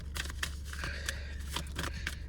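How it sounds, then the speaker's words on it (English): A deck of tarot cards being shuffled by hand, giving a quick series of crisp papery riffles and slaps in an irregular rhythm, close and fairly quiet with no talking. "First deck that we are shuffling is the Cosmic Insights deck"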